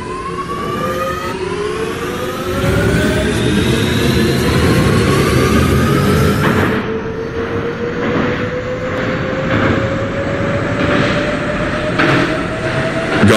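A Q train subway car in a video game pulls away and runs, its rising motor whine sweeping upward over a loud, steady rumble with faint rhythmic rail clatter, heard alone and close.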